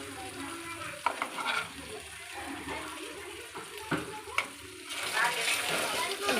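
Ginger paste frying in oil in a pan for mutton curry, a close steady sizzle with stirring scrapes and occasional clinks, a faint voice in the background.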